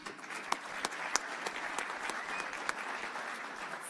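Light, scattered applause from an audience greeting dignitaries at the 2020 Town of Hempstead inauguration, with individual sharp claps standing out over a soft, steady patter at a modest distance.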